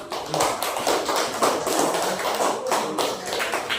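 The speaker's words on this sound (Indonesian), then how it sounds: "Sudah kita berikan aplaus untuk kelompok." A primary-school class claps together for a group of classmates, a continuous patter of many hands in a dense, steady round of applause filling the room without a pause.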